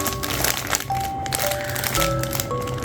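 A banana Maltesers chocolate packet being torn open close up, giving dense, continuous crackling and crinkling of the wrapper for a few seconds, with no talk over it.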